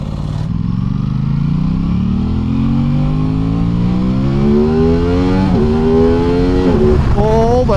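Aprilia RS660 Factory motorcycle engine pulling hard through the gears while riding, its rising whine climbing steadily, dipping at each upshift and climbing again, loud and close over wind rush with no talking.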